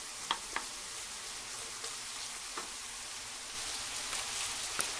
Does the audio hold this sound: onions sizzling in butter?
yes